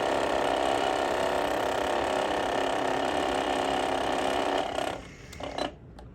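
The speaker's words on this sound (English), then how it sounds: "into a special mode for filling a bobbin. And then I hold this thread tightly and push this button." A sewing machine set to bobbin-winding mode whirs at a steady, loud pitch for several seconds, then winds down and stops, followed by a few small mechanical clicks and rattles.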